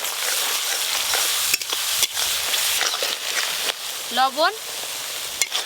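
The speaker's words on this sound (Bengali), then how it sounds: "খুব ভালো করে মশলাটা কষে নেব" Spices fry in a pan with black cumin, chopped tomato, chili powder, turmeric and slit green chilies, a loud continuous sizzle with scraping stirs and a short spoken word near the end.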